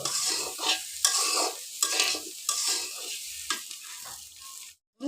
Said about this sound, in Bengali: আলুগুলো বাজা হয়ে গেছে এবার নামিয়ে নেব